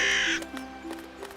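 A crow in a children's cartoon gives a loud, harsh caw at the start, followed by softer scuffling and light clatter sounds.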